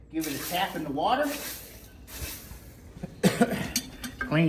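A hot forged horseshoe, worked to a gray heat on a farrier's forge, is tapped into quenching water, giving short hisses and splashy sizzles in a few bursts with some handling noise between them.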